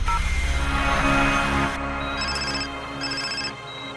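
Mobile phone ringtone in a Christmas special programme, heard as a steady tonal electronic melody with repeating chime notes over a dense music bed, moderately loud.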